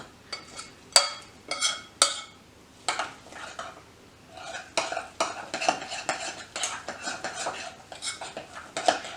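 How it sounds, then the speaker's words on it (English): A spoon clinks and scrapes against a bowl while oatmeal pancake dry ingredients with cinnamon and sugar are stirred, giving repeated close, sharp taps in an uneven rhythm with no talking. "Give it a good mix with, I'm using just a regular teaspoon or tablespoon."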